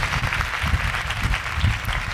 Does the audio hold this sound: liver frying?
no